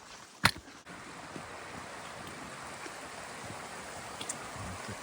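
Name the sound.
creek flowing out of Vista Lake, Banff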